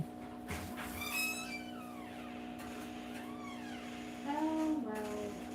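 A cat meows outdoors in a few drawn-out, rising and falling cries, moderately close, over a steady hum and faint background noise.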